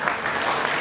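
Audience applause thanking a donor at a memorial chess competition in Bhaktapur: a short, steady wash of clapping from a crowd, continuous and fairly even throughout.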